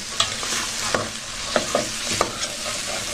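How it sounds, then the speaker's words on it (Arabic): Green beans and meat sauté in a hot pan, with a steady sizzle and repeated scraping stirs that give sharp clicks over the continuous frying hiss. "هديها تشويحه كده"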